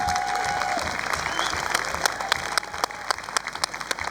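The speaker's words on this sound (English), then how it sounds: "can I please get a round of applause for Tony?" Crowd applause at a UK BMX regional race meeting, a steady wash of many hands clapping that carries on throughout, with sharper individual claps standing out toward the end.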